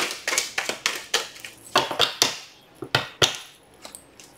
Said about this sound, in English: Let me shuffle this one first.